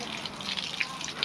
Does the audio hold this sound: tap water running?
yes